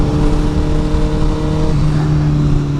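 A CDI 1000 double R motorcycle engine revs close by, holding a steady buzzing tone before the pitch shifts partway through, with no voices present.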